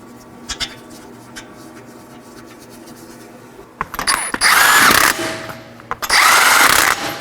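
A power tool runs in two loud, sustained bursts, each about a second long, as lug nuts are run down onto a front wheel of a 2013-2019 Nissan Sentra 1.8L. Quieter clicks and shop clatter come first.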